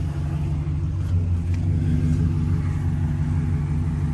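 A Chevy Silverado 5.3 V8 idles after a lifter replacement, a steady low rumble with a slightly uneven idle and no ticking, running continuously and fairly close.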